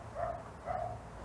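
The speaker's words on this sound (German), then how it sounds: "Hörst du den Hund?" A dog barks twice in the distance near a garden with a small polytunnel, with two quiet, evenly spaced calls and no talk over them.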